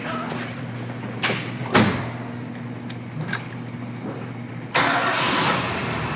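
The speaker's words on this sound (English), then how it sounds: "It starts up so easy. You can't even hear it run." A 1970 Ford Galaxie engine cranks and catches at about 1.7 seconds, then settles into a quiet, smooth idle. A second burst follows near 4.7 seconds, with a few light clicks and knocks scattered between.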